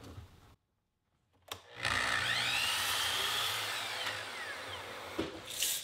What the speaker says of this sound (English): Now I'll cut the stick at 44 inches, and that's 1 inch longer than the pattern.